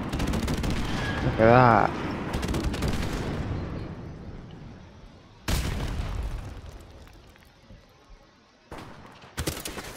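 G36C rifle fire in Call of Duty 4 Remastered online play: loud sharp shots in short bursts with booming tails, spaced across the clip, and someone speaks briefly near the start.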